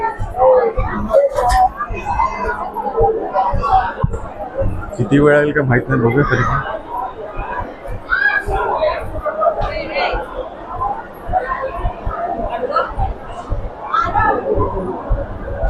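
Crowded free-darshan queue at a temple in Nashik, a dense babble of many voices and shuffling close around, with someone talking nearby over the steady crowd noise.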